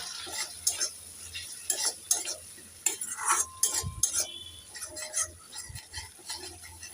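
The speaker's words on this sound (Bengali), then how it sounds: "দিয়ে দেব সামান্য জল একটু নেড়ে ছেড়ে দিয়ে দেব" Fish curry in a Bengali-style pan being stirred after water is added, with a spoon or spatula scraping and tapping the pan in irregular bursts over a soft background.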